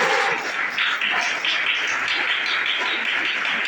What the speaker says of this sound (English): If you want to clap nicely.